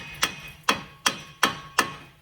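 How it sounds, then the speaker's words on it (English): Five sharp metallic hammer strikes on a brake rotor of a 2011 Hyundai Elantra ring out at a steady pace, each blow clanging briefly before the next, close and alone. "you want to hit it with a hammer"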